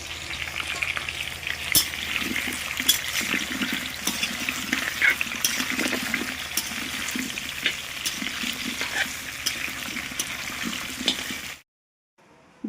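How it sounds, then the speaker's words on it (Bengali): Potatoes for a meat curry frying in a wok over a wood-fired clay stove, giving a steady crackling sizzle with occasional stirring scrapes, close and moderate, running for most of the span before cutting off abruptly near the end. "মাংসর আলুটা ভাজবো"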